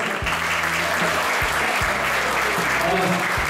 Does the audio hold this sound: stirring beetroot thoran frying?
no